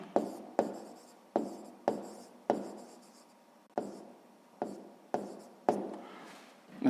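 Pen strokes on paper while writing down a math answer, a series of about ten sharp scratchy marks at an uneven pace, close and clear with no talking.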